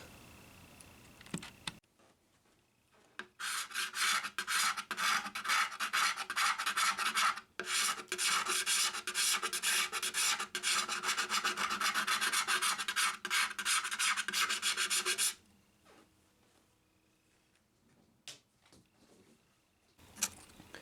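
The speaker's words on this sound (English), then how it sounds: "I mostly been using the scraper to remove the bulk of the polyester" A hand scraper strips polyester finish from a Takamine guitar in a loud, rapid rasping run of about twelve seconds, framed by quieter scrapes and handling noises.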